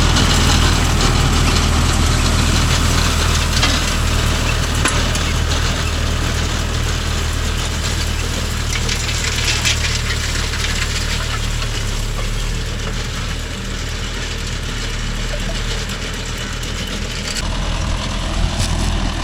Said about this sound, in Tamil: கட்டமட்டான்னு சவுண்டு வந்துக்கிட்டே இருக்குது பேலரில் இருந்து